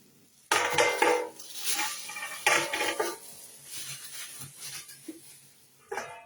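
A metal cooking pot being lifted and handled out of a cardboard box, with several sharp clanks and rattles of metal against metal, close and fairly loud, with pauses between them.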